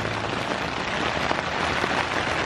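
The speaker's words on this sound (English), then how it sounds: "You probably can't even hear anything because of the rain." Steady, dense rain drums on a tent at a campsite, a continuous loud hiss of drops with no pauses and no voices.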